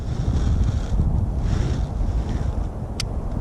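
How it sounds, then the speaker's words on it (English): Steady outdoor wind buffeting a microphone beside a pond while bass fishing in Maine, a loud continuous low rumble with gusty swells throughout and a brief faint click near the end. "I don't know how good the audio is today because it is fairly windy out"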